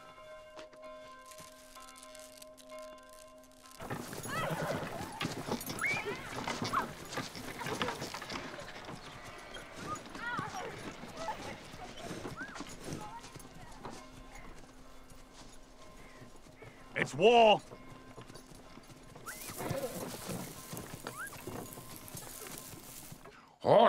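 Horses clip-clop at a trot through a period-drama battle scene, steady hoofbeats with several loud whinnies breaking through, while people talk briefly over the noise.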